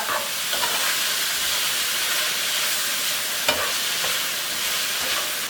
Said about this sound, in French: Donc on va venir faire sauter tout ça.